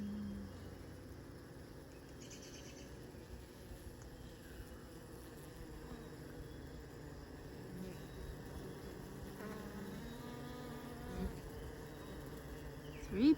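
Honeybees return to the hive carrying pollen, and their buzzing makes a faint, continuous hum with individual bees droning close by throughout.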